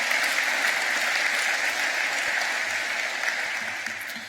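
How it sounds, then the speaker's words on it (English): An audience at a business school event applauds in a dense, sustained wash of clapping that fades slightly toward the end. "a round of applause for that"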